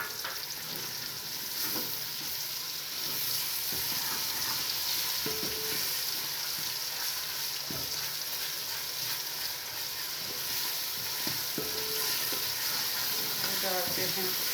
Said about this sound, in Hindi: अब इसमें डालते हैं लहसुन अदरक का पेस्ट।